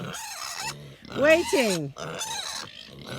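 A pig on a farm in Portugal grunts and oinks between a person's spoken words, the animal sound rising loudly in the middle, close by.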